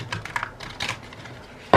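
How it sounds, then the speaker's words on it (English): A deck of tarot cards is shuffled in a quick pass of soft, close papery riffles and taps, ending in a sharper snap, with no talking over it. "Let me put a quick shuffle on it."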